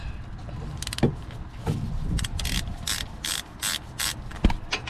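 A ratchet tool clicks in rapid bursts while loosening wheel hub bolts on a 2015-2019 Subaru Outback, with metallic knocks and clanks between the ratcheting strokes, close and fairly loud.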